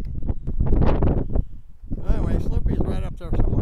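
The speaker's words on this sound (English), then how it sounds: "And here comes the wind." Strong wind buffets the microphone in rough, loud gusts at Santa Cruz Lake, New Mexico, with a voice speaking briefly at the start.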